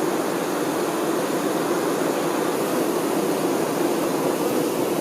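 Honeybees guarding the beehive fan their wings to cool it, giving a dense, steady, close droning whir that holds unbroken throughout.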